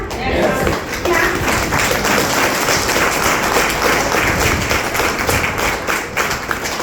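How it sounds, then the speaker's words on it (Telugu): Audience in a business seminar hall clapping hands, a dense, steady patter of many claps sustained throughout, fairly loud and close, with crowd noise mixed in. "ఈ క్లాప్స్ అంటారు అసలు."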